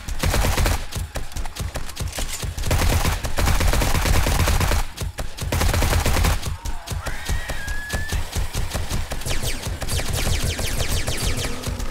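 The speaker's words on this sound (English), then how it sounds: "even the turrets shooting like that will attract a screamer if I'm not careful" Dense, continuous bursts of automatic turret fire from the 7 Days to Die Darkness Falls mod, loud and sustained with brief gaps, rattling steadily near the listener at a reinforced titanium base.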